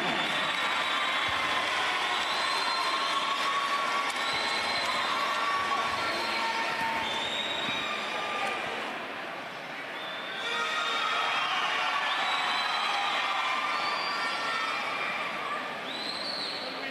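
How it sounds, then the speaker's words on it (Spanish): A crowd at a basketball awards ceremony cheers and applauds in a sustained, loud roar with whistles and shouts, dipping briefly before swelling again. "¡Aplauso!"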